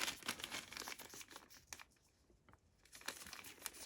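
Plastic bag holding board game pieces, small silicone meeples and tokens, rustles and crinkles close up in bursts, going quieter midway before picking up again; no talking.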